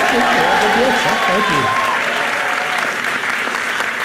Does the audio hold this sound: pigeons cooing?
no